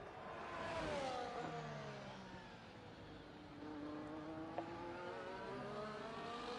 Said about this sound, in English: Alpine engine, the Renault engine, just struggling for power.